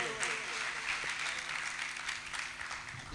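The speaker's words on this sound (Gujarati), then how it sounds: "તો આપણે જોરદાર તાળીઓથી એને પહેલાં તો બિરદાવીએ." An audience at a Guru Purnima festival gathering applauds a dance performance by young girls, a dense steady wash of clapping for the whole stretch, with voices faintly mixed in.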